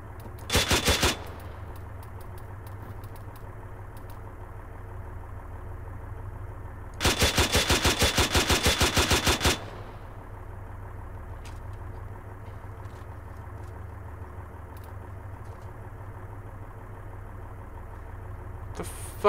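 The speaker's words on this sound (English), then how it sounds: "The fuck are these shots coming from?" Bursts of rapid automatic gunfire in ARMA 3 ring out loud and close, a short volley followed by a longer sustained burst, over a low steady engine hum, with a few faint distant pops between.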